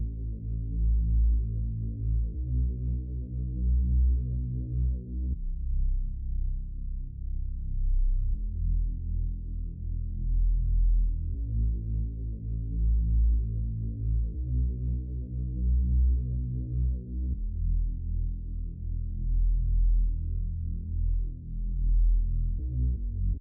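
A downsampled OVO bass sample with an underwater effect plays as a muffled, deep and throbbing bass line with all highs removed, repeating its pattern in steady phrases across the whole stretch.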